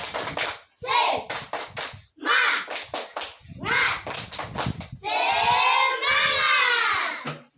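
Indonesian classroom children clapping the "Tepuk Semangat" rhythmic chant pattern in bursts, loud and close, with their voices shouting and chanting along between the claps.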